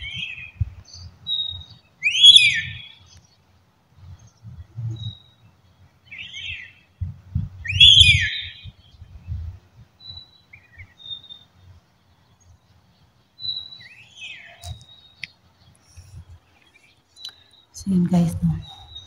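A bird outside gives high, repeated chirping calls in short bursts every few seconds. The calls sit over low, muffled background noise, with a brief thump near the end.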